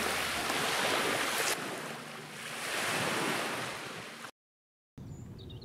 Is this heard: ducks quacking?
no